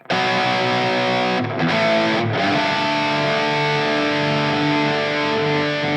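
A thick, saturated high-gain electric guitar plays a sustained lead line through a POD Express amp modeler, distorted and bright, with a couple of brief breaks between notes.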